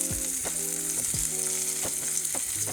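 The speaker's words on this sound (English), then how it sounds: "Our pan is hot now, and we'll be going in with our mushrooms. I want to get a nice fry on it" Mushrooms hit a hot pan and fry with a loud, steady sizzle and crackle close up, while a utensil stirs and scrapes them at a slow rhythm with a few clear knocks.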